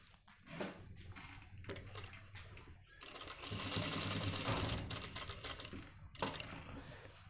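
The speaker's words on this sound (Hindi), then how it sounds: "अब हम यहाँ से सिलाई शुरू करेंगे जहाँ से ये पॉकेट है, ताकि ये पैक हो जाएगी बिल्कुल।" A sewing machine runs in bursts, stitching along the front pocket of a pair of men's pants, with steady mechanical whirring that stops and restarts several times, loudest in a long run midway.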